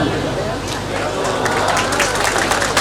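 An audience at an All India Mushaira poetry gathering breaks into a dense, steady wash of applause, loud and sustained for about three seconds with crowd murmur mixed in.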